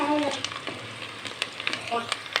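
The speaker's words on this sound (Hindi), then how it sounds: "नाजरीन प्याज हमारा ब्राउन हो चुका है" Onions for aloo biryani fry in hot oil until golden brown, a soft steady sizzle with scattered crackles and a few stirring scrapes, close, with brief voice fragments at the start.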